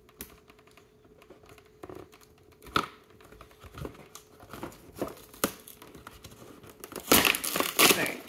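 Sealed plastic packaging with tape being torn open, heard as scattered close crinkles and scratches that build into louder tearing and crumpling bursts near the end.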